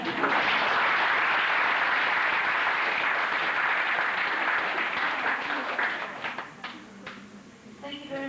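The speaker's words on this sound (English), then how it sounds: "Now, let's give them a big applause to them once more." Audience at an English seminar on Tokashiki Island applauding, dense sustained clapping that fills the room, then thins out and breaks into scattered claps near the end.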